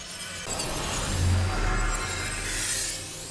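Glass shattering in a Harry Potter film, a dense crash of breaking glass with rumbling low end, sustained for a few seconds and fairly loud.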